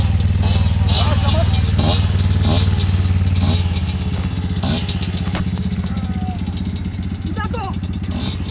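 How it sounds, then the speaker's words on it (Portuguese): A motorcycle engine runs loud and close during a seven-steps stair-climbing challenge, holding a steady idle-like rumble that eases slightly, while several people talk and shout over it. "Tira a moto, tira a moto."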